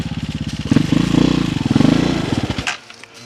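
A motorcycle engine chugs close by in a quick, pulsing rhythm, briefly strained under load before cutting back to a lighter idle.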